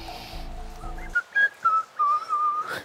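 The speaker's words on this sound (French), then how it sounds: "Quand il bluffe, il siffle avant." A person whistles a short wavering tune of several clear notes, close and loud, following a brief burst of background music.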